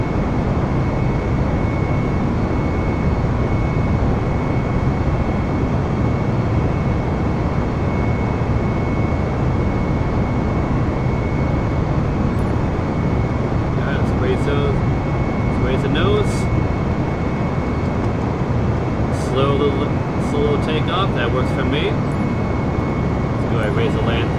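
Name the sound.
aircraft engine taking off in Microsoft Flight Simulator, video game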